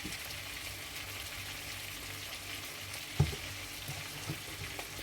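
Fresh shrimp fry in garlic butter in a pan, producing a soft, even crackling sizzle at low level with one brief louder knock partway through.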